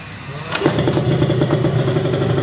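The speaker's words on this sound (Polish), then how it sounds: "Ale z kopajki to może sam odpalić." Small Chinese KXD 125 dirt bike engine kick-started, catching after a brief thump and settling into a steady, loud rattling idle close by, with no talk.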